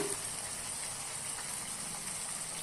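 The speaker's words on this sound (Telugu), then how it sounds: "నేను చిన్న గ్లాస్తో ఒక గ్లాస్ వాటర్ పోస్తున్నానండి" A small glass of water poured into a simmering prawn and tamarind curry, a steady close gushing wash of liquid lasting throughout with no speech.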